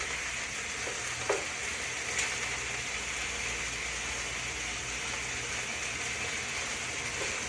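Red onion fries with meat in a pan, a steady close hiss of sizzling oil with a few faint clicks and no voices.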